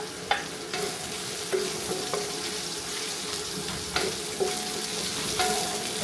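Chopped onion going into a simmering pot of chicken tinola, with a few sharp clinks and scrapes of a utensil against the pot over a low bubbling hiss, close and quiet, no talking.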